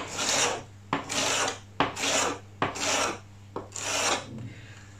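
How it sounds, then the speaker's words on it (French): A knife slices a bell pepper lengthwise on a cutting board in five repeated rasping strokes, each a crisp, close scraping pass with brief pauses between. "je coupe le poivron dans sa longueur"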